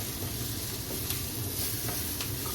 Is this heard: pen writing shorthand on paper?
no